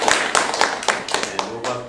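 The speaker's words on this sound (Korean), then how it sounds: "우리 그분들 위해서 박수 부탁합니다" A church audience at an evening lecture claps in a brisk series of distinct, fairly loud, evenly spaced claps lasting under two seconds.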